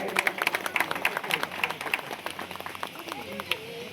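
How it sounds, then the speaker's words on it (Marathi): A crowd at an outdoor Buddhist dhamma conference claps in rhythmic, uneven bursts, the sharp hand claps fairly close and mixed with murmuring voices from the gathering. "सर्वांनी टाळ्या वाजवायच्या आहेत."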